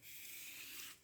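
A palm rubbing flat along an edge, making a soft, steady, close hiss of skin against a surface that fades out at the end, with no talk.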